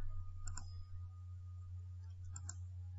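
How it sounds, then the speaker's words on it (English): Keys tap on a computer keyboard in two small clusters of a few quick clicks, faint and close, over a steady low electrical hum. "If I just start typing letters in"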